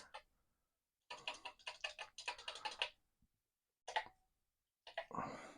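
Bursts of quick clicking keystrokes on a Commodore PET 4016 keyboard, some of its keys faulty, come in short rapid runs separated by silent pauses, close and fairly quiet.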